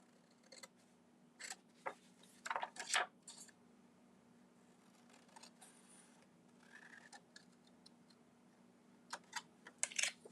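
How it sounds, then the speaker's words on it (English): Faint, scattered snips of scissors cutting paper in a quiet room, with a short cluster of cuts in the middle and a few more at the end. "I'm just using my scissors."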